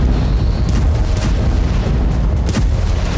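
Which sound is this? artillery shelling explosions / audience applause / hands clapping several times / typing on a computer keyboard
artillery shelling explosions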